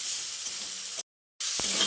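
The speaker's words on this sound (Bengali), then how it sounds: "নুন আর হলুদের গুঁড়োটা দিয়ে শিমের সঙ্গে ভালো করে নেড়েচেড়ে মিশিয়ে নিচ্ছি।" Flat beans with salt and turmeric are stirred in a hot pan. A loud, close, continuous sizzling hiss drops out briefly before it resumes, with a soft scrape near the end.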